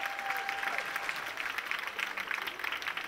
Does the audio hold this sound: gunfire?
no